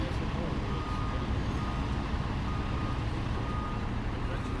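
A lorry reverses to tip its load at a port in Ireland where a ship is being loaded. Faint reversing beeps sound over a constant, heavy engine and site rumble, with voices nearby.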